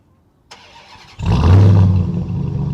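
A click, a brief whirring crank, then the supercharged 6.2 HEMI engine of a Ram TRX pickup, remote-started, catches and roars up loudly before settling into a deep, steady idle close by.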